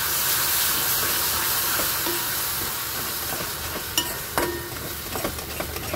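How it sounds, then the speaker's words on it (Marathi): Onion and tomato puree fry together in a pan for misal pav, producing a continuous close sizzle with a few sharp spatula scrapes and taps near the end. "इकडे कांदा परतायला ठेवलाय, छान लाल झालाय आणि आता टोमॅटो पुरी टाकली आहे त्याच्यामध्ये मस्त अशी"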